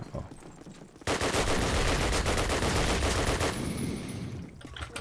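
Call of Duty: United Offensive gunfire, a loud sustained burst of rapid automatic shots close up that starts abruptly and rattles on for a few seconds before cutting back to quieter ambience.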